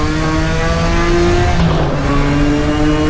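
A Nissan R32 GT-R engine holds at the rev limiter around the Bathurst circuit, a loud, steady, close-up onboard drone with sustained harmonic tones and a brief pitch dip midway.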